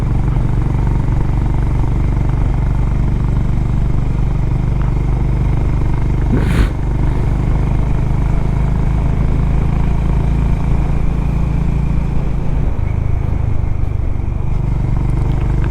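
Motorcycles ride up a Himalayan mountain road with snow-covered peaks ahead, a steady loud engine drone running the whole time with a brief sharper burst midway.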